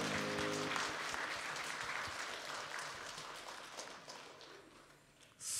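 Congregation applauding during a Sunday church service, a dense steady wash of clapping that swells at the start and gradually thins out, then rises again at the very end.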